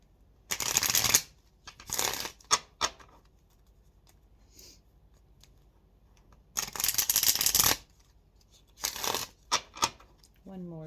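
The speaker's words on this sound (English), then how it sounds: "One more shuffle." Tarot cards are shuffled in several quick bursts of riffling and slapping, close and crisp, separated by quiet pauses, with a faint voice between bursts.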